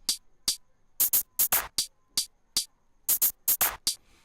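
Hi-hat from an afro pop beat with no panning automation, crisp bright ticks in an irregular rhythm, some doubled, about eighteen hits in four seconds, dry and alone with no talk.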